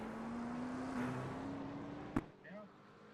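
A V8 safety car engine in a racing video game drones steadily with rising pitch as it pulls away, then a sharp click and a quieter fading engine tail.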